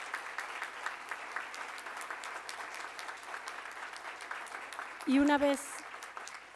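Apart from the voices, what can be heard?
audience applause for the technical and production team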